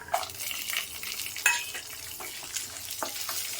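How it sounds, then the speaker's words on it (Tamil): Garlic sizzles in hot oil for a spicy onion-tomato chutney, a close, steady fry crackle broken by sharper spatters and the scrape of stirring. "நல்லா கலர் வர மாதிரி வறுத்துக்கோங்க"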